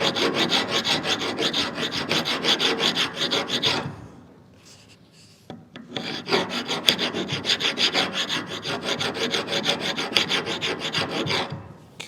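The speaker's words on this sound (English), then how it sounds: "So I really like to actually grind that rust off." Rust being ground off front brake parts of a 2016 Chevrolet Suburban LT, with a harsh rhythmic rasping that runs steadily, pauses briefly, then resumes, close and loud.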